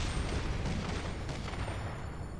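Explosions in Final Fantasy XIV, a dense continuous barrage of rumbling blasts and crackling bursts layered over game sound, loud and sustained throughout.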